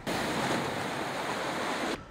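Strong wind and high-tide waves buffet the harbor at Piégut in Brittany where moored boats toss about, a loud, dense roar of gusting air and surf that cuts off abruptly; no voices.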